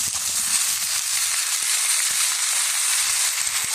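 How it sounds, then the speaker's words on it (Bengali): Onions frying in oil in a pan until browned, for mung dal bhuna khichuri; a steady, loud, close hiss and crackle of sizzling with small pops and stirring scrapes throughout, no voices. "পেঁয়াজটাকে লাল লাল করে ভেজে নেব"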